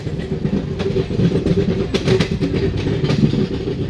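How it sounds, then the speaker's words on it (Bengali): The New Jalpaiguri–Haldibari intercity express rumbles past close by while a local train passes overhead, with rhythmic clickety-clack of wheels over rail joints under a steady roar. "উপর দিক দিয়ে পাস হচ্ছে শিয়ালদাগামী লোকাল ট্রেন, আর নিচের দিক দিয়ে পাস হচ্ছে আমাদের new Jalpaiguri Haldibari directly intercity express"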